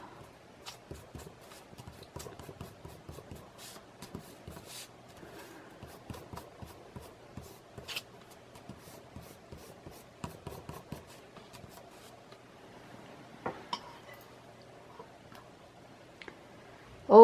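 Cut ceramic tiles being handled and shifted in a pile, giving a string of light clicks, ticks and small knocks close by, with a louder clack near the end.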